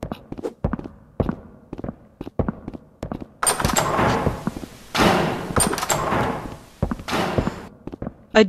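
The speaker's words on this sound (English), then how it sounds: "A door scared the crap out of me." In a Murder Drones horror game played in Rec Room, a series of sharp wooden thuds and knocks leads into loud, rushing door slams and bangs that hit hard and repeat several times.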